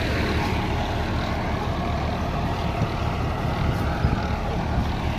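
A tractor pulling a super seeder through a field in fourth low gear, a constant, heavy diesel rumble with broad mechanical roar, loud and unbroken throughout.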